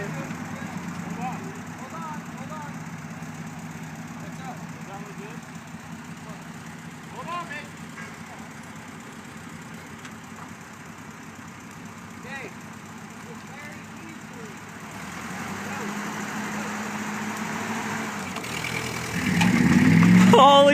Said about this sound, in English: Rev it up more! Get those RPMs higher!